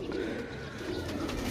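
Pigeons coo steadily and close by, a soft continuous low warble filling the short moment with no other sounds.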